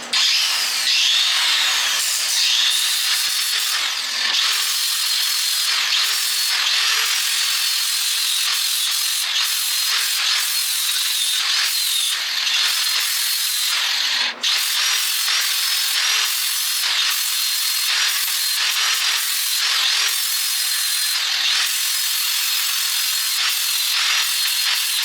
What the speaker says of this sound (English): we might be able to grind far enough and get the weld to let go